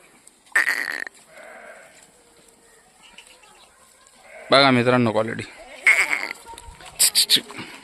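Kathiawadi goats, part of a newly arrived truckload, give several loud, close bleats, one long and wavering. Short calls follow near the end, and someone speaks between them.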